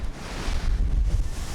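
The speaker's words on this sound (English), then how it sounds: "it is blowing 30 knots here in the Aegean Sea." A strong 30-knot wind blows across the Aegean Sea aboard an aluminum motor yacht, a continuous roaring buffet of gusts over the microphone with waves washing beneath.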